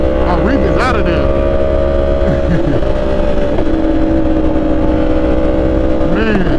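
A Yamaha R1 sport motorcycle engine drones loudly and continuously at high revs on a night ride, with someone talking over the steady engine noise.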